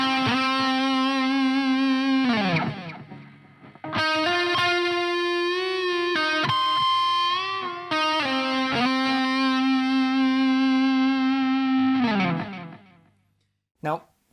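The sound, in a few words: electric guitar bend and release phrase with pinched harmonic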